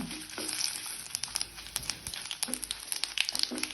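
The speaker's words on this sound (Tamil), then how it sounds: "மிளகா நல்லா வறுப்பட்டு போச்சு" Crackling, sizzling oil with sharp pops and spatters as dried red chilies fry for a fenugreek-leaf kuzhambu tempering, close and steady, with occasional stirring scrapes.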